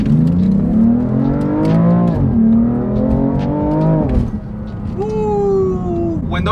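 BMW F80 M3 accelerating hard through a corner, engine pitch climbing in repeated loud rising sweeps with gear changes, then a fresh high-revving pull at the end, heard from inside the car.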